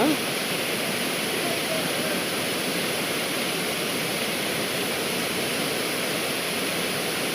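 Kothapalli waterfall in a tribal area roars as a steady, dense wash of falling water that stays loud and unbroken throughout, with nothing else standing out.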